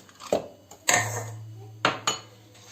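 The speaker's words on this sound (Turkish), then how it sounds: "Ve çikolatayla de karıştırıyoruz bunu." A spoon clinks and scrapes against a pot while chocolate is stirred into a milk pudding, giving a few sharp metallic knocks with quieter scraping between them, close by and with no talk.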